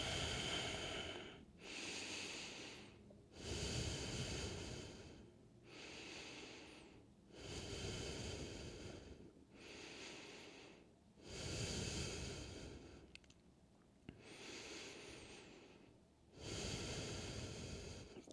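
Deep, slow breaths during a yoga pose come close and quiet, a regular cycle of about nine long airy inhales and exhales with brief pauses between, with no talk.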